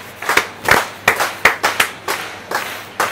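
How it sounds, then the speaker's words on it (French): A few people clap for the cook Dorian at the end of a cooking class on Pacific shrimp in creamy sauce. About ten sharp, separate claps ring out close by in an uneven rhythm, with no talking. "applaudissements pour Dorian"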